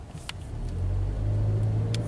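A car speeds past in a theme-park parking area at Disney World, its rumbling engine swelling from faint to a loud, steady roar, with brief clicks near the start and end.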